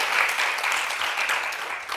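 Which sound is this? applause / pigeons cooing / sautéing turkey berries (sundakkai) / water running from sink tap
applause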